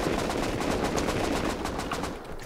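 Sustained automatic gunfire in the survival video game Rust, a loud, rapid, even burst of shots that runs without a break.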